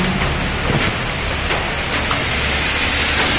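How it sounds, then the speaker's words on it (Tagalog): Steady rain falls outdoors, a dense, even hiss with occasional louder drops and spatters, holding at a constant level throughout with no voices. "Guys, umuulan."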